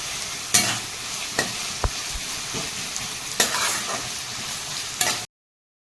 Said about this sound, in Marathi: परतून घ्यायचा कांदा भरपूर लागतो थोडासा मीठ टाकायचं आहे म्हणजे लवकर कांदा आपला मऊ पडतो